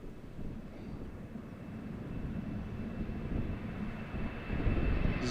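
A plane takes off at Amsterdam Schiphol Airport, a distant low engine roar swelling gradually and steadily, with no speech.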